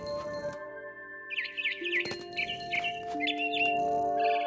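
Small birds chirp and tweet in quick repeated bursts through the forest ambience of the video game What Remains of Edith Finch, with a steady tonal hum running underneath and no talk.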